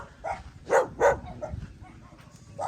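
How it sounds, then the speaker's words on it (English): A dog in a rural yard in Barotac Viejo, Iloilo, Philippines barks a few times at fairly close range, two loud sharp barks in the middle framed by softer yips and quiet background noise. "here's the dog's gonna bark at me"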